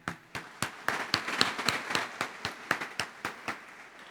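A congregation at a Catholic Mass claps for a children's choir, with sharp, separate handclaps in an uneven rhythm that thicken into scattered applause, close and moderately loud, with no talking.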